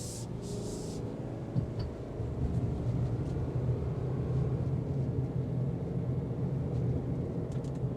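Engine and road rumble inside a 2025 Subaru Forester Wilderness with a CVT and 17-inch wheels, accelerating while the transmission mimics stepped gear shifts; a steady low drone that rises slightly after about two seconds, with no talk.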